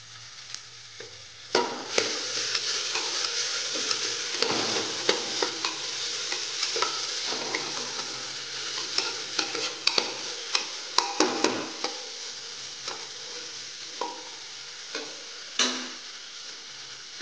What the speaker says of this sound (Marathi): कांदा आता चांगला भाजलाय, त्याच्यात टोमॅटो टाकूया आणि आलं लसूण टाकून घेऊया।